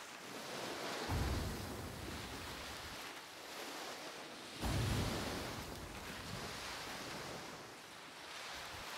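Wind and rolling waves on the open sea around a sailing ship in the Skull and Bones game, a soft continuous wash with two swelling surges.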